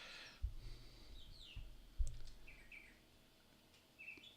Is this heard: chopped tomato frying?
no